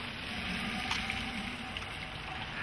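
Water draining and dripping from a shrimp boil basket lifted out of the pot outdoors, a soft continuous trickle and patter at low level, close by, with no talk.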